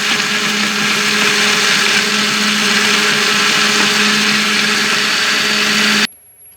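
A kitchen blender whirs loudly and steadily, mixing a mint margarita with a glass of white fizzy drink, then cuts off abruptly near the end.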